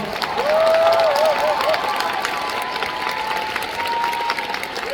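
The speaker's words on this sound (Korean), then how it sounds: "큰 박수 부탁드리겠습니다" Concert audience applauding for the music director and orchestra, a sustained wash of clapping from a large crowd, with a thin sustained tone and some scattered cheering carried over the top.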